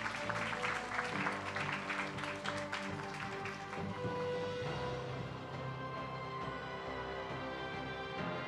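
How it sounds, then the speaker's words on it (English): Audience applauding the adjudicating panel at a youth English public speaking contest in Hong Kong, clapping clearest in the first half and then fading under a sustained musical tone. "Please give them all a warm round of applause"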